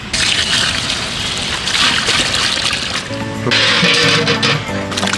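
Water trickles and drains steadily from soaked rice for several seconds, a continuous wet rushing with a faint tonal hum in the background.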